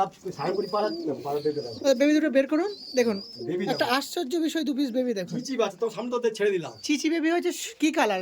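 Giribaz pigeons cooing softly up close, their low coos mixed under almost continuous nearby talking.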